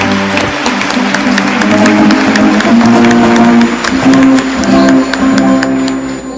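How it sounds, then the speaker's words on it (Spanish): A church congregation applauds after Mass, a sustained round of clapping with sharp individual claps standing out over a murmur of crowd and lingering voices. "dense un aplauso"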